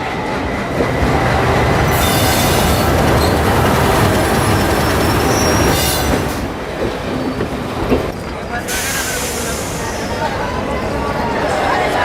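Upper India Express train arriving at platform number 1 of an Indian railway station, a loud steady rumble of rolling railcars with squealing wheels and clattering, carrying on close by for the whole stretch.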